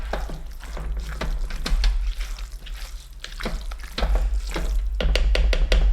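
Ground beef for sloppy joes frying on high heat in a pan, a steady close sizzle with occasional scraping as it is stirred, over a low continuous hum.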